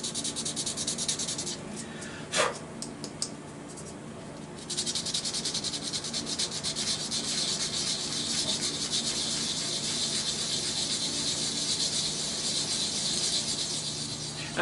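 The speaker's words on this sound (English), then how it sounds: "I'll sand this by hand up to 320" Small hollow form turned from yew, hand sanded on the lathe up to 320 grit, giving a soft continuous hiss and rub that stays steady and close, with a brief knock near the start and no talking.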